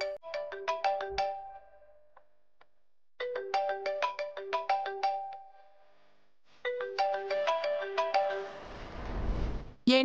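A phone ringtone chimes in three repeated bursts of melodic tones separated by gaps, ringing on unanswered in a Telugu TV serial scene, with a brief low thump near the end.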